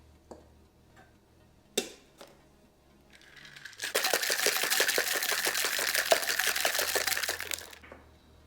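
Ice rattles rapidly inside a cocktail shaker holding a cherry-limeade gin gimlet, a dense rhythmic clatter for several seconds after a few light clinks, fairly close and steady.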